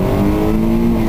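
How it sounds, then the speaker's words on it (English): A car engine accelerates, a steady, loud drone held without a break for about a second. "All right. Accelerating."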